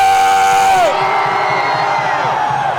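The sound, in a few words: rally crowd shouting and cheering on command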